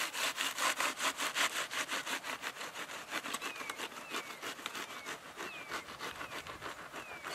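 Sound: serrated knife cutting through a paper wasp nest

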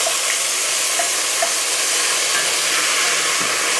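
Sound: browned beef and onions stirred while cooking

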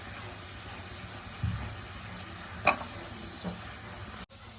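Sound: stirring and roasting khoa with grated coconut in a pan

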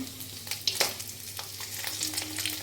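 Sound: fish frying crisp in a pan

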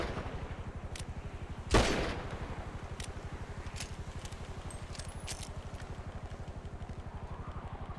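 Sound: gunfire in video game GTA V, gang shooting at players

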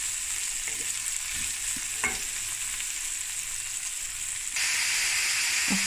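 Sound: stirring a pot cooking on the stove

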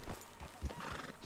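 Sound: horse neighing in video game Red Dead Redemption 2

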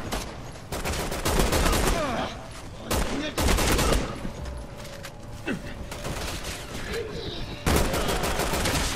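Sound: gunfire in the video game Resident Evil 6

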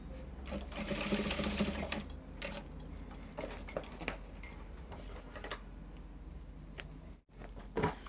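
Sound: sewing machine tacking bra cup onto bustier dress

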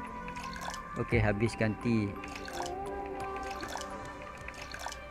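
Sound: pouring clean water to water flower plants

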